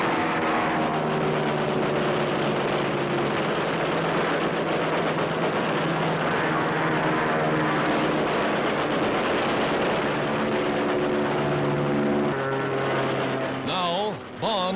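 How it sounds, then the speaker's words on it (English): Wartime newsreel of bombers strafing Japanese positions with machine guns during an Allied landing in Italy, south of Rome: a loud, continuous roar of aircraft engines and gunfire fills the whole stretch, with a brief dip and warble near the end. "Bombers rake the Japanese with machine guns."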